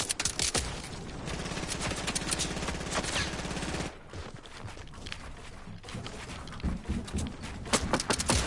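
Gunfire in the Fortnite video game during a duos match, with rapid clustered shots and bursts plus scattered single cracks across the stretch, loud and busy game audio with no talking.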